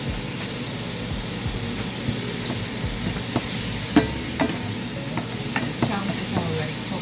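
Soya chunks stir-fried with vegetables in a pan, giving a steady close sizzle throughout with light scraping and stirring clicks scattered on top, no talking.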